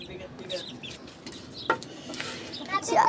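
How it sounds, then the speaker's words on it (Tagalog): Chickens cluck and chirp amid a busy outdoor background, with people talking faintly; scattered bird calls rise near the end. "At ito yung mga manok, pinapakain nila."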